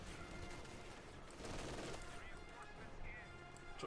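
An MG42 machine gun fires in Company of Heroes 2, rapid bursts crackling within a busy, quiet battle mix, and a commentator talks over the gunfire.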